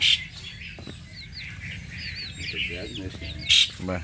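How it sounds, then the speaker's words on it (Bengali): A local desi chicken clucks in short bursts against a low background rumble, joined by high chirps of other birds. "এই হচ্ছে দেশি মুরগি অরিজিনাল"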